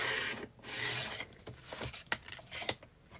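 Card paper is trimmed for a handmade card: rasping, rubbing strokes of a trimmer blade along the stock, then a few sharp clicks and snaps nearby, without speech.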